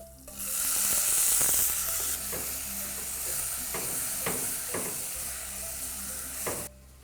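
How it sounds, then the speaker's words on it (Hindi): Tomatoes go into hot masala in a pan while making prawn curry, setting off a loud, bright sizzle that eases into a steady fry with repeated stirring scrapes, close by, with no talking. "अब डाल देना है सारा टमाटर"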